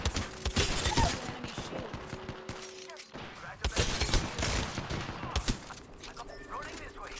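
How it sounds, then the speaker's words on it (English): Rapid gunfire bursts from Apex Legends battle-royale combat crackle loudly and repeatedly throughout, with a brief lull midway, under a player's talk and in-game voice callouts. "I'm getting shot at."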